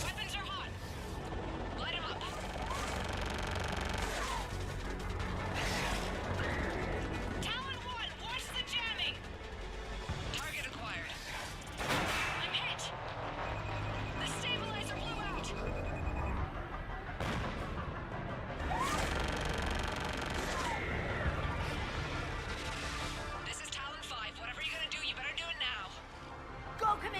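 Heavy weapons fire from air support pounds ground targets in Mass Effect 3, with dense rumbling blasts and crackling gunfire throughout, layered under game music and radio chatter voices.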